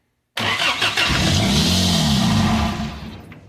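A Toyota car engine cranks and catches, then settles into a steady, loud running rumble that fades slightly near the end.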